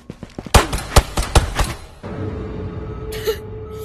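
Glock 17 pistol shots in the VR shooter Ghosts of Tabor: a quick string of sharp, close shots over about two seconds, then a steady background hum with a faint voice.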